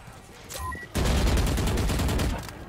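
Rapid automatic gunfire erupts in a shooter game on the Icebox map: a dense, fast string of close shots lasting over a second, preceded by quieter in-game sounds.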